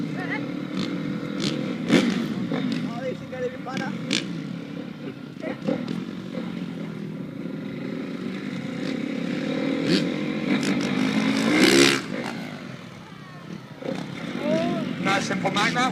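A motorcycle engine revs and roars through a stunt show at a truck festival, rising and falling as the bike is ridden. Crowd noise and a commentator's voice sound over the engine.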